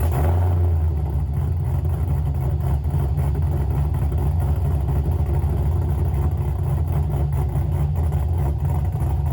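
Camaro SS V8 fitted with three-inch true dual exhaust and an X-pipe, starting up and settling into a loud, steady, deep rumbling idle throughout, close by with no talk.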